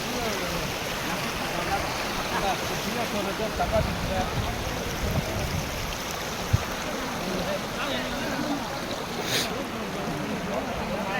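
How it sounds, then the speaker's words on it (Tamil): Continuous broadband rush of flowing water at Thirparappu waterfall fills the whole stretch, steady and fairly loud, with faint background murmurs from visitors nearby. "திருப்பரப்பு அருவி பகுதி"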